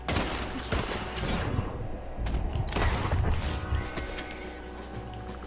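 Rapid bursts of video-game gunfire crackle loudly and continuously, layered volleys and booms filling the scene with little pause.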